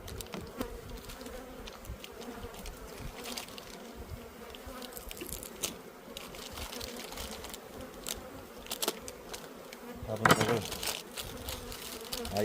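Honeybees at a hive, being fed pollen patties and syrup and given a drone-comb frame, make a steady, quiet buzzing hum with scattered close wingbeat passes and light tapping, including a louder burst near the end.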